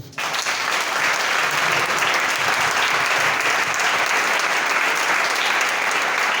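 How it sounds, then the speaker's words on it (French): A church congregation bursts into loud, sustained applause that holds steady for several seconds, a dense wash of clapping filling the room. "Acclame Jésus pour ça"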